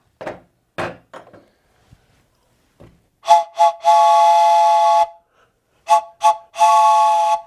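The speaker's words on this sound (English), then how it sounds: "These are made by Acme for orchestras, orchestral three-tone whistles" An Acme orchestral three-tone whistle is blown loud and close in two sets of short toots followed by a long sustained chordal blast, after a few faint knocks.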